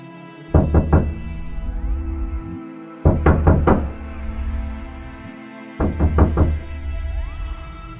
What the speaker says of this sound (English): This time, the knocking was different, harder, more desperate.